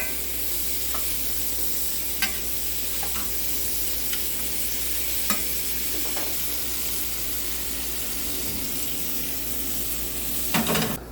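Steaks sizzle in a pan with butter, rosemary and garlic, a steady close hiss of frying broken by occasional crackles and spits, with a few louder pops and shuffling near the end.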